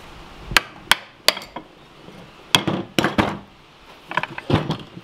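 A hammer taps at a gearbox carrier to free it from a gearbox that was run with no oil: sharp, close metallic strikes, three spaced blows, then a quicker cluster of three and a final flurry of lighter taps.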